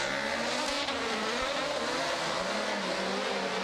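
Rallycross car engine racing at Estering, a loud continuous raspy engine roar that stays steady throughout without pauses.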